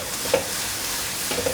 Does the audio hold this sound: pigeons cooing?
no